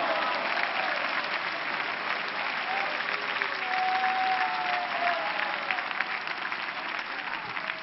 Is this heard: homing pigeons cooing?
no